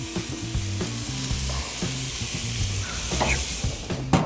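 Steady, close sizzling of pork tenderloin skewers on a gas grill, with a few soft clicks and scrapes as the skewers are turned and no talking.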